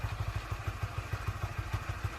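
A Honda Winner 150 motorcycle with about 20,000 km on it idles close by, its single-cylinder engine thumping in a fast, even rhythm with a faint mechanical clatter over the beat.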